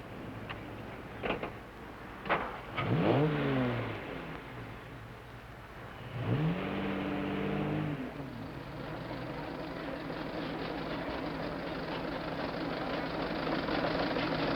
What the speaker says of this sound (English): Here is the Stanley steamer, ready to defend its honor against the Model T.